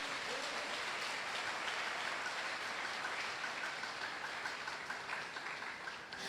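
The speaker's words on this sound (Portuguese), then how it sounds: "Dê uma salva de palmas para o Senhor." A church congregation claps together during a Portuguese-language service, a steady, somewhat distant and reverberant patter of many hands that holds evenly throughout.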